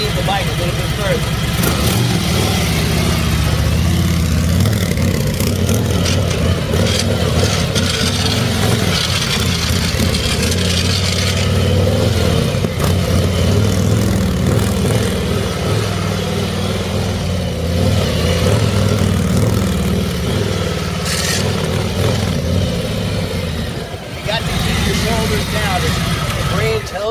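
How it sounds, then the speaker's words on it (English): A motorcycle rides in a circle with its engine running as a steady mid-pitched drone that rises and falls slightly, heard under someone talking throughout. "I'm going to do a circle. I'm going to keep my weight on the high side of the motorcycle."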